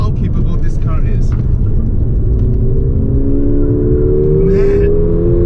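A 2019 Mercedes-AMG GLA 45 engine pulls hard under acceleration, a loud rising whine and rumble heard from inside the cabin, steady and close, with people talking over it.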